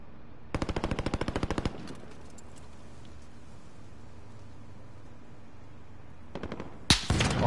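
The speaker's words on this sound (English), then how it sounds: "Oh, I'm getting sniped at from far" Rapid bursts of automatic gunfire in Call of Duty Warzone: a long fast rattling volley, then quiet, then a short burst and a loud sharp crack near the end, with no talking.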